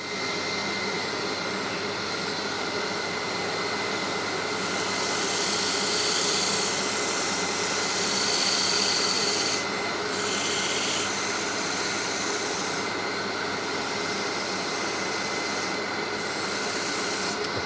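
Power sander working over a wooden bird feeder at reduced speed, a continuous loud whirring drone with a constant grainy hiss that holds steady throughout, close by with no voices.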